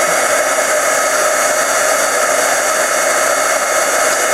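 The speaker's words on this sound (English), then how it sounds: "I'm going to take my heat gun and heat that up" A heat gun blows steadily at close range, heating embossed vellum for a paper flower, making a loud, unbroken hiss and whir with no speech.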